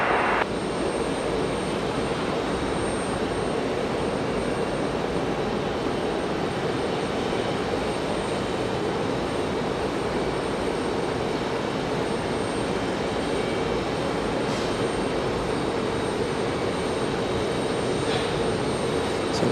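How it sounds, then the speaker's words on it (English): An ATR turboprop aircraft comes in to land on runway 23 left at Raleigh Durham, heard as a long, steady engine drone that stays at a constant moderate level throughout. "The ATR going to come in on 23 left."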